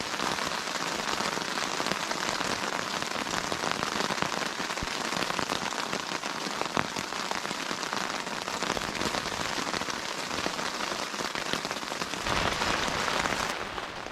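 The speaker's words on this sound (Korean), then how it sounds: "와 진짜 빗소리" Heavy rain pelting a tent roof nearby, a constant hissing patter that stays loud throughout, with a few sharper drops standing out.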